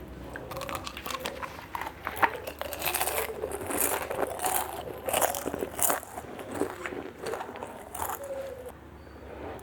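Homemade butterscotch popcorn being bitten and chewed up close, with a steady run of crisp, irregular crunches lasting several seconds.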